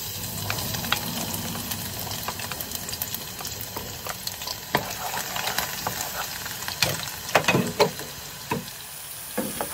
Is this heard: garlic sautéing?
yes